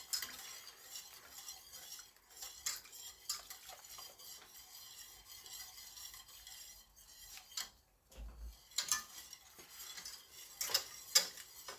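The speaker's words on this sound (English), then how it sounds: "The whole process, just keep stirring to get that flour taste out." A utensil stirs a flour mixture in a pot for smothered turkey wings, making faint, irregular scraping and clinking taps with soft sizzling behind them and a short quiet gap partway through.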